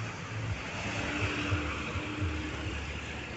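Honda Jazz car driving past at a street walking event, a moderate engine hum with muffled low thumps and background crowd noise, steady and mid-distance.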